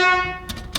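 A steady horn note from a 1970 Chevrolet Nova sounds briefly and close, then cuts off, followed by two short noisy clicks.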